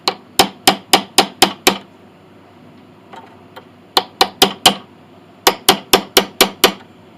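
Bright metallic tapping as a brass tool hammers bridge pins down on a Mason & Hamlin piano bridge, three fast bursts of rapid blows separated by short pauses, close up and without voices.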